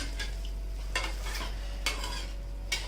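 A spoon scrapes and stirs spiced water and oil in a pot in a few spaced strokes over a soft, steady background hum.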